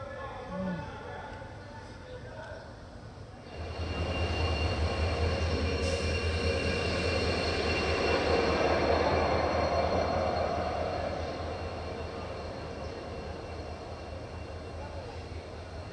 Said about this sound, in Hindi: तब तक लोकोमोटिव भी आ गया इस साइड पे।